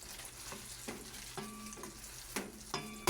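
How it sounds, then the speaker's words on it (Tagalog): Sautéed ingredients for chop suey are stirred and pressed in a hot pan, a steady soft sizzle broken by several sharp scraping and clanking strokes of a utensil against the pan, close and alone without talk. "Haluin lang po ng konti at pipiin para lumabas po yung lasa."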